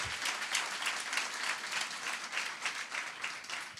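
A church congregation claps loudly and steadily for several seconds, a dense wash of applause from many hands with no voices over it.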